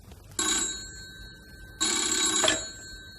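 A telephone bell rings in two separate bursts, close and clear, each bright metallic trill lasting about a second with a short quiet gap between them.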